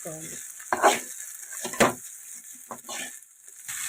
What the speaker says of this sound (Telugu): ఇప్పుడు ఈ రైస్ని హై ఫ్లేమ్లో పెట్టి టాస్ వేసుకోవచ్చు కలుపుకోవచ్చు